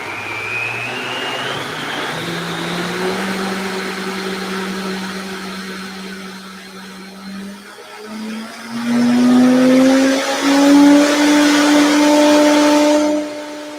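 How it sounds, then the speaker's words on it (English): A countertop blender runs while making vegan coconut ice cream, its motor whining steadily and shifting pitch as speed changes, then surging louder and higher through the second half. The sound is loud, close and continuous, with no talking. "Okay, so I'm going to do this blender."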